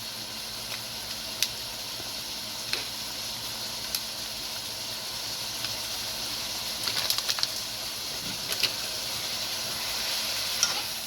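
Seasoned ground beef with grated thyme is stirred in a hot pan, making a constant, soft sizzling hiss broken by scattered light scrapes and clicks from the utensil, with no talking.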